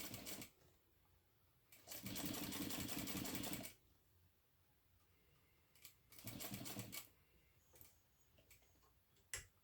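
A sewing machine stitching vinyl with a Teflon-coated presser foot, two loud sustained runs of rapid mechanical whirring, with quieter clicks and ticks in the gaps between.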